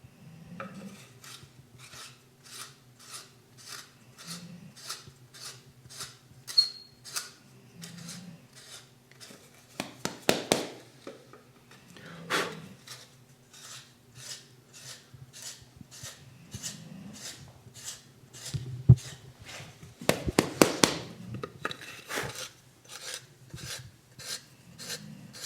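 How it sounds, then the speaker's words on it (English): A hand-turned reamer works into wood while a Mya-Moe ukulele is built, making rapid, regular scraping clicks over a long stretch, with a few louder bursts of rasping and handling knocks. "I'm really trying to turn this quickly, and I'm putting very little forward pressure on the reamer. I am letting the reamer basically advance itself."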